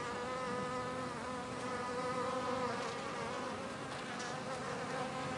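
Honeybee attendants cluster around a queen lying in grass outdoors, a dense, steady buzzing of many bees close by, continuous and unbroken with no voices.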